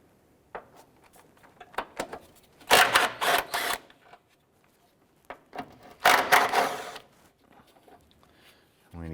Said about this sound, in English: Using a 14mm socket, we're going to remove this bolt and this bolt here.